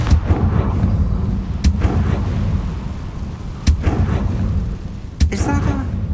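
Confringo fire-blast spells go off in the Hogwarts Legacy video game, three sharp booming blasts spaced a couple of seconds apart over a dense, rumbling battle backdrop.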